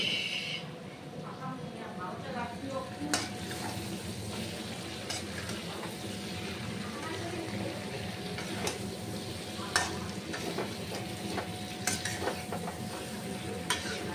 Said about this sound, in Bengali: এখন আমি এটাকে কষাচ্ছি